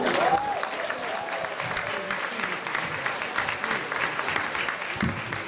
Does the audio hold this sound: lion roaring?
no